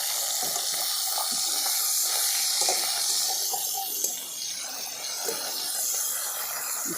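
Catfish frying in a covered pan, with a loud continuous hissing sizzle close by and a few soft knocks as the lid comes off and the fish is turned.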